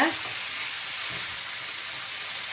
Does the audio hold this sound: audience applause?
no